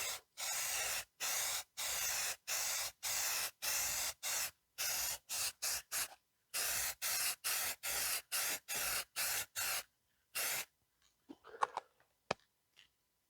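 Repeated short bursts of spray from an aerosol can as a coat goes onto a car headlight on a 2001 Honda Accord, about a dozen hisses in a steady rhythm, loud and close, then quiet with a few faint clicks.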